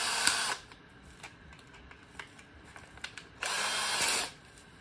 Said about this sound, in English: And so you put it in your drill